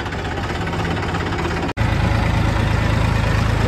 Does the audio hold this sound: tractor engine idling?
yes